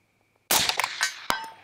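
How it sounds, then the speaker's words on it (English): A rifle shot rings out after a short silence, followed by a second sharp crack about a second later, likely the round striking a steel target at 200 yards, with a brief ringing tail outdoors. "why don't you fire one at 200 and let's see if we get on steel there"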